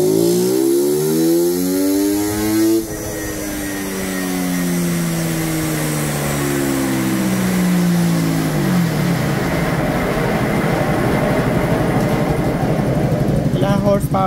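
A Suzuki Raider FI motorcycle with a remapped stock ECU runs on a dyno in Manila. The engine revs loud and continuous, its tone sweeping upward through the gears and holding a high, raw roar toward the end.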